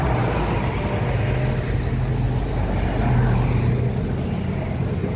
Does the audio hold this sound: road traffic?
yes